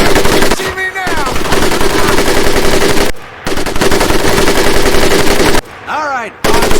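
A Tommy gun fires in sustained, loud, close bursts during a boot camp session of Medal of Honor: Pacific Assault. The dense rattling bursts are broken by two short pauses, with brief voice-like sounds in the gaps.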